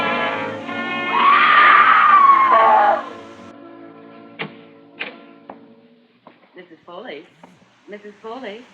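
In a radio drama, a woman gives a loud, high, sustained scream lasting about two seconds. Sparse clicks and brief, quieter vocal sounds follow.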